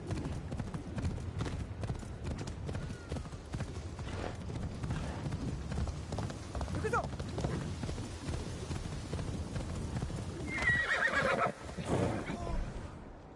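Horse hooves clip-clop steadily on the ground in the PS5 game Assassin's Creed Shadows, a soft continuous trotting rhythm, with a horse's neigh rising briefly near the end.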